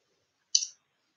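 A single short computer mouse click while working in the WordPress menu editor, crisp and isolated against near silence.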